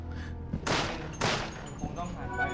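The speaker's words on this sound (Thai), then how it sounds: "แต่เราจะใช้ปืนพกก่อน" Two sharp pistol gunshots in the video game Biohazard Darkside Chronicles, loud bursts about half a second apart over a busy game soundtrack, with a voice talking underneath.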